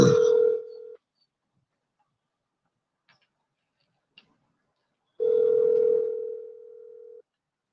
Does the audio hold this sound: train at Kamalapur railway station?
no